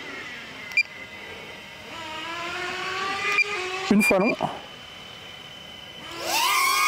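A DJI Neo drone's motors start, rising into a bright, close whine near the end after someone speaks French, with faint clicks and whirs beforehand.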